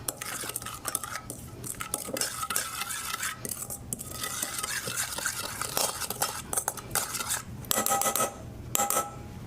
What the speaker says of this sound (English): I'm just going to use it to stir this into a paste